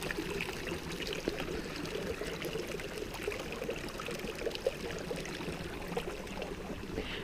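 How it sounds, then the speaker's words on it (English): Shallow river water trickling and pouring steadily over rocks at a small stream crossing on a shaded Sedona hiking trail, a continuous close babble with no voices. "I've got another little river crossing here"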